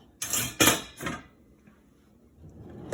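Lid placed over a cast iron skillet on low heat, three quick metallic clanks close by, then a soft scrape and quiet sizzle.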